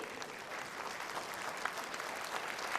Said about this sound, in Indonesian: kita tepuk tangan untuk jawaban paslon 2, paslon 3, dan juga masyarakat transportasi